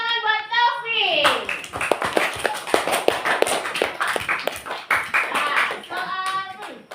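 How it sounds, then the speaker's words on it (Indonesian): Children clapping in a classroom, a quick patter of many hands close by, bracketed by voices speaking before and after. "Tepuk tangan buat Taufik."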